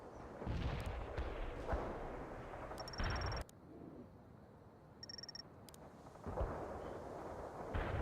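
Grenade and artillery fire in the video game World in Conflict: heavy booming blasts and rumbling explosions come in bursts, with short radio-like beeps between them and a quieter stretch in the middle.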